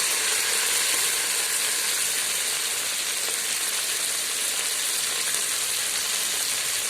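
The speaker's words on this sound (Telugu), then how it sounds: "కరివేపాకు, మెంతికూర, సో వీటిని ఈ ఆయిల్లో వేసి కొంచెం ఫ్రై చేద్దాం" Curry leaves and fenugreek leaves sizzle steadily in hot ghee for a vegetable biryani, a loud, even frying hiss that holds without a break and with no voices over it.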